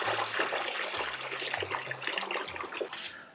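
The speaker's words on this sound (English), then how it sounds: "And now we'll move out the water from the washing machine" Water drains out of a portable mini washing machine with a spin function, pouring and trickling continuously while a low mechanical hum rises and falls underneath, with no talking.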